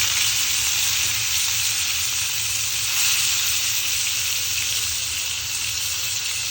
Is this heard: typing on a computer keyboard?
no